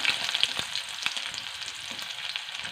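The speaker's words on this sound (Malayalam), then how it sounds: "ചുമന്നുള്ളി ഇടുവാണേ" Steady frying sizzle of shallots in hot oil after mustard seeds, close and even, with small pops and crackles scattered through it and no voices.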